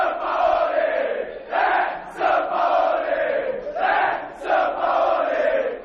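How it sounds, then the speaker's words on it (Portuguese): Santos football fans gather to celebrate the arrival of new coach Jorge Sampaoli, a crowd of about 100 supporters cheering and chanting in steady waves that swell and dip, with brief whistles cutting through. "A torcida do Santos fez festa para a chegada do novo treinador."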